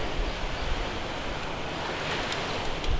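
Ocean waves washing steadily on the shore by the sea, a continuous broadband roar of surf, fairly close and even, with no voices.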